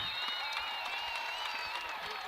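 Crowd at a girls' state final basketball game in a gym applauding a player leaving the court, a steady wash of clapping and cheering under a high ringing tone, moderately loud and continuous.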